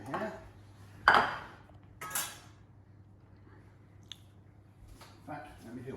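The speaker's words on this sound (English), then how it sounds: "I'm just going to go to the sink and quickly with the knife, I'm just going to get these little scales off." A knife scrapes scales off small anchovies at a kitchen sink, giving a few short, sharp scraping bursts spaced a second or so apart against a quiet room background.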